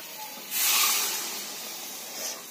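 Water goes into a hot pan while a bharta cooks, giving a soft steady hiss that swells at the pour and then fades back, close and fairly quiet, with no talking.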